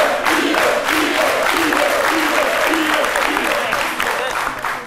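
Studio audience applause fills a live television talk show on RTI 1, a dense, steady wash of clapping that holds for several seconds with a voice speaking over it before easing slightly at the end.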